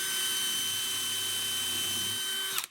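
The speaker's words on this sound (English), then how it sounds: "So we had to go one drill bit bigger than 3/8," Power drill boring a hole through a log with a bit one size above 3/8 inch, a steady high-pitched motor whine held near and loud, then stopping abruptly at the end, with no talk.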